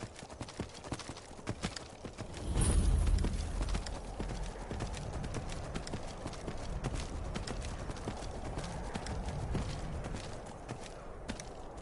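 Horse hooves clip-clopping in the video game Skyrim, a steady run of close hoofbeats with a brief louder burst near the start, continuing for several seconds.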